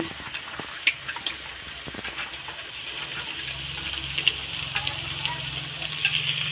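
Food fries and sizzles in a pan at home, a steady close hiss with small pops and occasional stirring.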